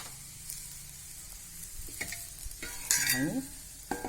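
A capsicum vegetable dish frying in a pan, with a soft steady sizzle and scraping stirs from a spoon, close and fairly quiet, a few louder clattering strokes near the end.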